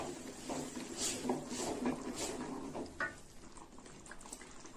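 Tomato-blender rinse water poured into a simmering egg tamarind curry, a soft, close liquid splashing and bubbling that comes and goes faintly over a quiet kitchen background.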